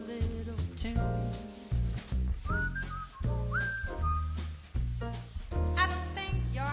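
Someone whistles a little tune amid a jazz quintet, with short melodic whistled phrases rising and sliding over piano, bass and drums in a lively, rhythmic band performance.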